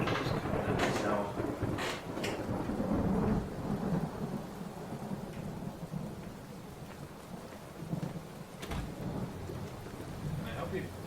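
A thunderstorm with heavy rain and a power outage: rumbling thunder rolls under steady rainfall, with sharp crackles early and near the end, while faint voices are present underneath.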